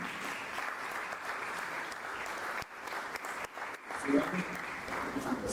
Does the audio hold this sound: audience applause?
yes